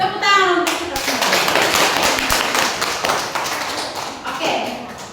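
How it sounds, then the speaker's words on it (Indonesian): Children in a primary school classroom clap together, a burst of quick, irregular hand claps up close that tapers off, with a voice mixed in. "Tepuk tangan untuk kita semua."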